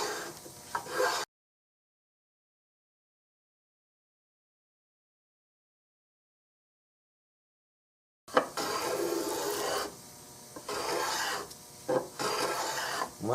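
A hand plane shapes a wooden Remington 788 gun stock, making rough rasping strokes in short bursts at the start and in several longer pushes near the end, with a long stretch of silence between.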